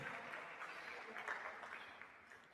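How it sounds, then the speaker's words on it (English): A workshop audience claps for the participants, a steady wash of many hands applauding at a moderate, slightly distant level for a few seconds. "Give them all a round of applause for that."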